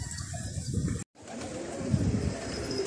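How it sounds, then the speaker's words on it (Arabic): Domestic pigeons cooing in a rooftop loft among a flock of about 120 birds, soft low coos over steady outdoor hiss, broken briefly by a short cut of silence. "هاي شايفين يا اخوان هاي الحمام"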